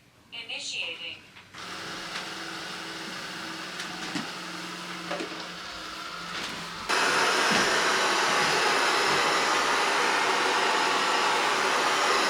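Steady mechanical whir of a SwitchBot K10+ Mini robot vacuum running, shifting to a louder, harsher roar partway through; a brief voice at the very start.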